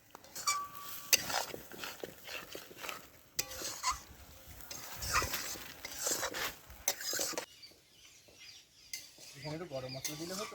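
Salt-and-turmeric-coated shrimp go into a hot pan for Bengali potol dorma, with a sizzle, repeated stirring scrapes and metal utensil clinks against the pan, close and moderately loud throughout.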